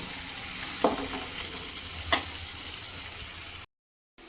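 Chicken curry sizzles in hot oil in a pan while being stirred, a steady frying hiss with two sharper scrapes of the spoon, then a short silence near the end.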